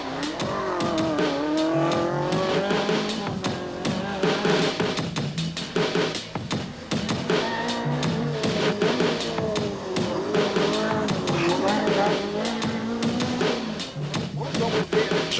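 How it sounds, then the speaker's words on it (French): A Renault Clio 16S rally car with engine problems at the 1997 Montagne Noire rally, loud and close, its engine revving and rising through the gears continuously with changing pitch. "France Bradel, qui connaît quelques problèmes avec son moteur, peut quand même tester sa Clio 16S."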